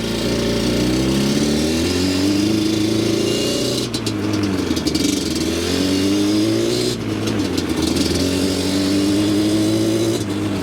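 A 2001 Yamaha Banshee ATV accelerates hard through the gears, its loud, close two-stroke engine climbing steadily in pitch, dropping briefly at each of two shifts, then winding up again, with no talking.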